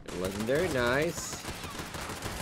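A gun fires in the video game Fallout 76 in a short burst of rapid, rattling shots that follow a brief stretch of voice at the start, then continue as a dense, steady crackle.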